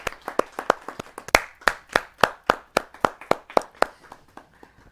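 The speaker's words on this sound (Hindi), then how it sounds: "आइए जोरदार तालियों से उनका हम स्वागत करें" An audience at a Hindi poetry gathering claps in a steady, spaced rhythm, sharp and close, slowly thinning out and fading toward the end.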